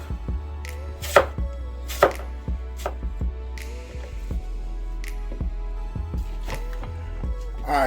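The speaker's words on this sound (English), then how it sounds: "This apple, and we just gonna, you know, slice it up, right?" A knife slices an apple on a cutting board, a series of crisp, close chops at an uneven pace, a few striking harder than the rest, with no talking over them.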